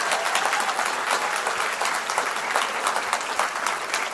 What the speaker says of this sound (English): But the biggest round of applause has to be for our nominees for this year's Australia Day Awards.